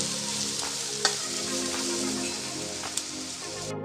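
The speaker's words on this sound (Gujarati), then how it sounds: "હવે એની અંદર આપણે રોટલાનો ભૂકો નાખી દઈશું. એને બરાબર હલાવી લઈશું." Crumbled rotla millet flatbread being stirred into a hot mustard seed tempering, giving a steady close crackling sizzle with occasional sharp pops and scraping stir sounds.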